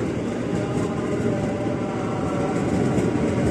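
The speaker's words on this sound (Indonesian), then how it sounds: "Jalur 2 masuk komuter lain tujuan Kampung Bandan." A KRL commuter train of twelve cars rolls into a station on line 2, bound for Kampung Bandan, with a loud, close, steady rumble of wheels and carriages filling the whole stretch and no speech.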